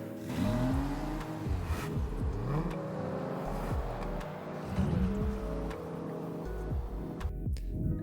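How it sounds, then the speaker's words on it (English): Sound-design layer for a music video, with whooshes, risers and car effects: engines rev up and pass with pitch sweeps and swooshing transitions, fairly loud and continuous, no talking. "Just going ahead and playing it without the song, you guys can see the whooshers, risers, car sound effects."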